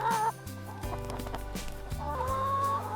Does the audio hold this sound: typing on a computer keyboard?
no